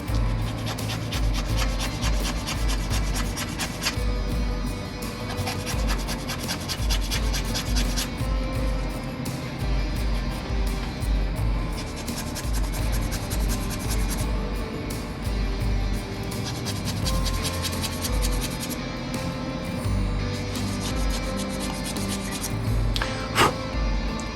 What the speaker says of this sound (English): we're going to sand down the point